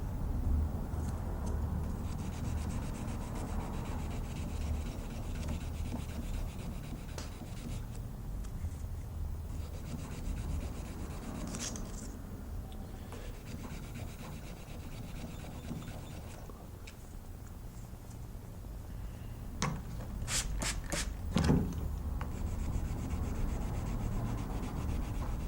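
Steady rasping strokes of hand sanding on a knife blade, worked all the way into the plunge line, continuing at a close, even level throughout with a few sharper scrapes near the end.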